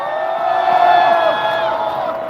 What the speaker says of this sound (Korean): 연사분께 박수!